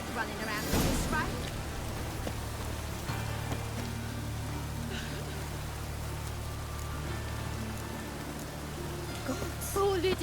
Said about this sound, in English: Mad running around in this rain.